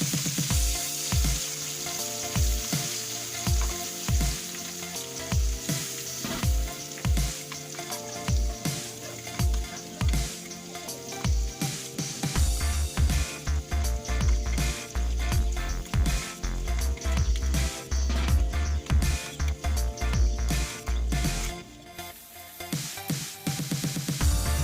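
Onion, ginger and garlic paste fries in hot oil in a pan over a low gas flame, a loud continuous sizzle with rhythmic stirring scrapes throughout.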